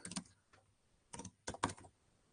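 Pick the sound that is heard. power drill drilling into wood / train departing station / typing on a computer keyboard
typing on a computer keyboard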